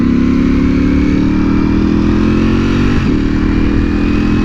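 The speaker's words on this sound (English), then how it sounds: "loud exhaust definitely allows people to like notice me more" A Ducati Panigale V4R with a loud aftermarket exhaust holds a steady, droning engine note close by, with a brief dip and recovery in pitch partway through.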